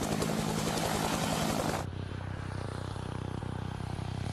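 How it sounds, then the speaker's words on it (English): Helicopter main and tail rotor noise, a loud broadband roar with rhythmic blade slap that suddenly drops to a quieter steady chopping hum with a thin high whine. "Often the first thing you hear from a helicopter is the sound of the wake from the main rotor hitting"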